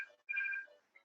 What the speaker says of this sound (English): That's because the phone's ringing.